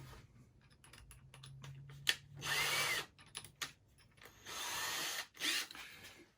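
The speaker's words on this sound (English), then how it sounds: "An alternative to the nails is a good old-fashioned drill, and just some drill bit sizes here." A power drill whirs through scrap metal in two sustained bursts with short pauses and clicks between, fairly close and loud, with no talking.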